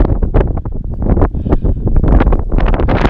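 Strong cold wind at a campsite at Haugastøl buffets the microphone in loud, continuous gusting rumbles with no break.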